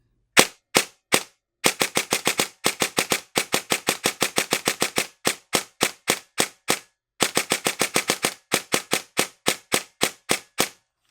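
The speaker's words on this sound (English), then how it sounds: "here's how it sounds like" Airsoft sniper rifle with a suppressor and Perun V2 optical trigger firing a long string of sharp, dry cracks, close and loud, mostly evenly spaced with a brief pause before a second volley; nobody speaks.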